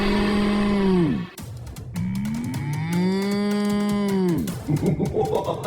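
A ghost cow in a cartoon lets out two long, loud, drawn-out moos close up, separated by a short pause, followed by rapid clattering.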